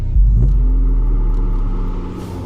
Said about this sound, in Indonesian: kayak ada suara mobil